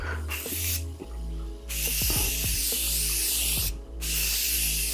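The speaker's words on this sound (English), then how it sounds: "I'm going to take my Morphe Continuous Setting Mist and spray down my face" Several short bursts of Morphe Continuous Setting Mist sprayed close by onto a face, each a soft airy hiss, separated by brief pauses.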